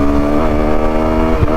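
A motorcycle cruises steadily along a highway, its engine droning loud and close with a constant tone and no pause.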